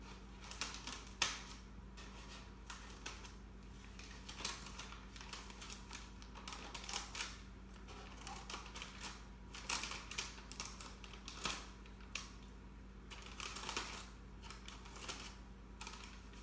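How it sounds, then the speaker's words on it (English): Scissors snip holes in a paper bag being prepared for drying herbs, giving a run of crisp, irregular cutting and crinkling sounds close by, steady throughout with no talking. "Now I'm going to want to take my scissors and make nice big holes in the paper bag"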